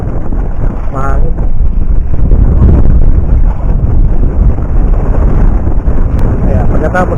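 Strong wind at sea buffeting a microphone on a small fishing boat, a loud continuous roar and rumble with gusting bursts throughout.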